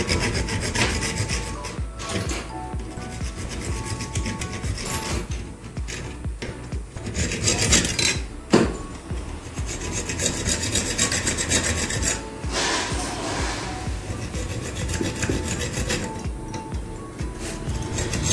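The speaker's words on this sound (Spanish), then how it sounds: "ahí hemos cortado con la sierra y hemos hecho pasado el mismo corte hasta que llega a la mitad de lo que es el cilindro" A hand saw rasps steadily through a clamped Yale car lock cylinder, its close, continuous grinding strokes running for many seconds with a brief sharp clink partway through.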